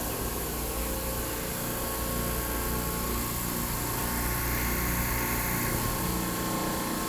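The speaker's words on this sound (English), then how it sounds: "Just turned on the primary pumps to the chiller. Ooh, chiller 1 just started too." In a church plant room a chiller starts up while its primary pumps run, making a dense, steady mechanical roar with a constant hum underneath, unbroken and fairly loud throughout.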